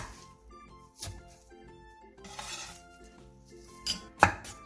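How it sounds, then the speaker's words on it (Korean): A knife cutting a handful of chives into 5 cm lengths on a board, a few separate close chops and taps between quiet stretches, alone with no talk. "부추 한 줌을 5cm 정도 길이로 잘라주세요"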